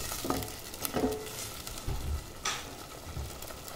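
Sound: spice masala being fried in a pan

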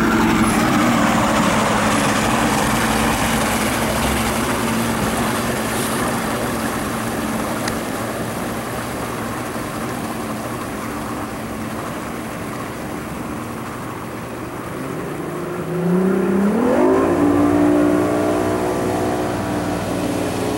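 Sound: two-stroke fuel-injected boat engine starting up

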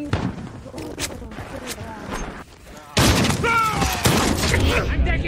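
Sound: gunfire in video game Call of Duty Modern Warfare

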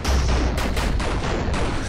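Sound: gunfire in Murder Miners video game

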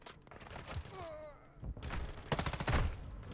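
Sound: M13 rifle gunfire in video game Call of Duty MW2

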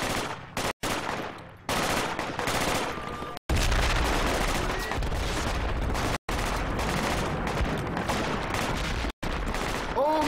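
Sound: suppressing gunfire in the video game Project Reality

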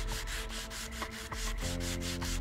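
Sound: sanding with old-school sandpaper in the video game Train Station Renovation

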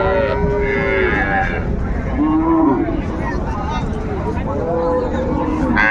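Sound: cow and calf mooing at a cattle market

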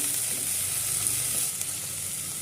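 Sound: tomato stirred into frying green pepper chicken curry

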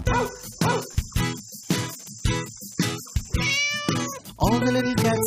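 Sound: cat meowing

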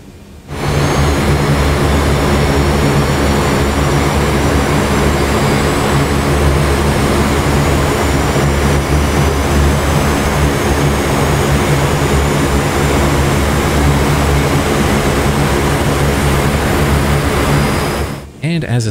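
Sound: C-130 number one engine starting in DCS video game

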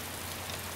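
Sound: rain in the video game DayZ

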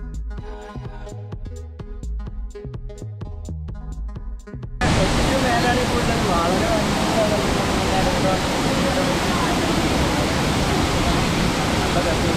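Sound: waterfall, Ezharakundu Waterfalls in Kannur

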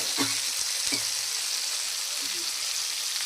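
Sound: kachkola (green banana) fritters being sautéed in a pan

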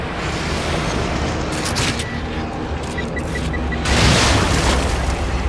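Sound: explosion in The Evil Within video game

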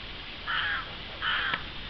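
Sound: crow cawing by a boating pond

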